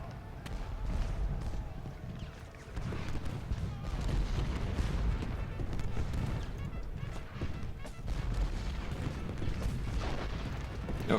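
Massed musket and cannon fire across a Gettysburg battlefield in a Civil War strategy game, a continuous crackle of distant shots and thuds under steady rumble, fairly faint and unbroken throughout.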